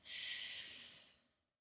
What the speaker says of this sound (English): And the same steady, slow exhale out.